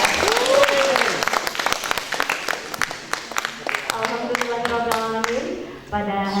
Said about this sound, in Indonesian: boleh sekali lagi saya minta tepuk tangannya untuk narasumber kita